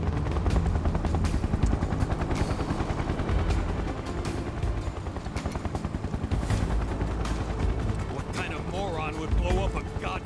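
A helicopter in Final Fantasy VII Remake beats out a continuous rapid rotor chop over a low engine rumble, while voices talk over it near the end.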